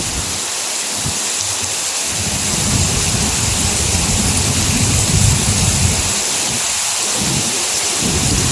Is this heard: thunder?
yes